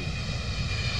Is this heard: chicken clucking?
no